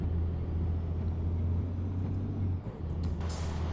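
A Volvo F89 truck engine in Euro Truck Simulator 2 drones at a steady low pitch, dipping briefly in the middle, with short hissy bursts near the end.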